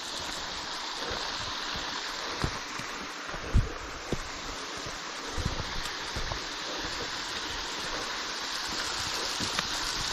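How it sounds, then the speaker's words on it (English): Small waterfalls on a creek downstream from Hidden Hollow on the Sneeds Creek loop pour with a steady, broad rushing wash, moderately close, with occasional light knocks and no talk. "Downstream from Hidden Hollow, we got a couple nice little waterfalls going."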